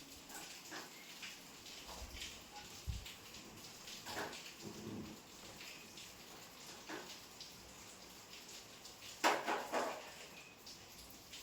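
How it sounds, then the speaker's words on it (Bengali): Water spills from a household water tank on a windy day, a faint, steady patter of falling water with occasional soft thumps and splashes in the background. "আর ট্যাঙ্কি থেকে যে জলটা পড়ছে তাতে তো জলের আওয়াজটাও আসছে।"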